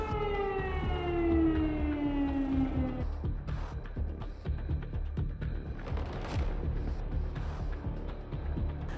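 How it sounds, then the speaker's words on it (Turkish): An air raid warning siren wails in the Belgorod and Voronezh regions of Russia, a loud falling tone for about three seconds, then fades into rough outdoor noise with scattered bursts. "Tongda Rossiyaning Belgrad va Voronej oblastlarida ogohlantiruvchi sirenalar chalingan."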